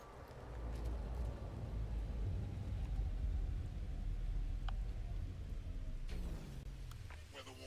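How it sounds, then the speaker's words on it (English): Storm weather in the No Man's Sky game: a steady, loud low rumble of wind and roaring air runs throughout, with a sharper gusting burst near the end. "Weather warning. Incoming storm."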